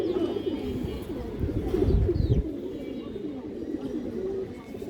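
An Indian high flyer pigeon gives soft, low, repeated coos close by, with a brief rustling thump partway through and a faint background hum.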